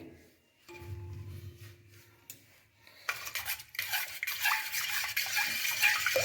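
Salted hot water is stirred for washing cauliflower, with quiet clinks of a utensil against a vessel at first, then louder splashing and sloshing water that builds toward the end.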